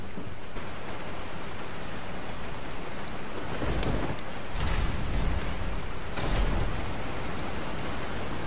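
Heavy rain pours steadily in Resident Evil 4, a dense broadband hiss with low rumbling swells that rise around the middle and again near the end, suggesting distant thunder; no voices.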